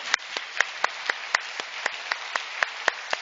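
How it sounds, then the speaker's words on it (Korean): A single person in a church service claps in a steady, evenly spaced rhythm, about a dozen sharp claps, close and alone. "한때는 어린이였던 우리 성도 여러분 자신을 위해서 박수하겠습니다."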